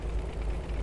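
Steady low droning tank engine in World of Tanks, a continuous rumbling hum that holds even and fairly loud for under a second with no talk over it.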